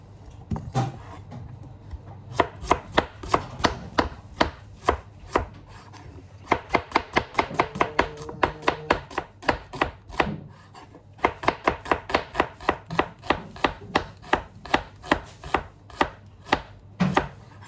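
Onions being finely chopped for a Kerala chicken curry with pathiri: a knife strikes the board in quick, rhythmic bursts of close, crisp taps that pause briefly between runs.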